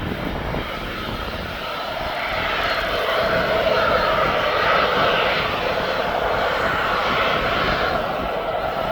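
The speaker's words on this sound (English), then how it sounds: "So we're going down to this jet2.com livery aircraft." A Jet2 passenger jet at East Midlands Airport, its engines giving a loud, steady roar that swells slightly and holds without a break, heard from nearby on the apron.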